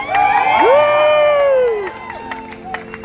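An audience at a cultural show at the Polynesian Cultural Center on Oahu screams and cheers loudly in rising, wavering shouts for about two seconds, then fades into scattered crowd noise.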